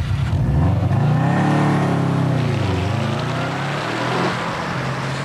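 A Subaru Impreza WRX STi with a 280-horsepower engine driven on a wet racetrack, its engine loud and close as revs climb and fall through gear changes, with tyre hiss beneath and no talk.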